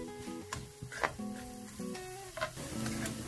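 Onions frying in about three tablespoons of hot vegetable oil in a wok over medium heat: a soft, steady sizzle with occasional stirring scrapes, alongside faint tonal background sounds.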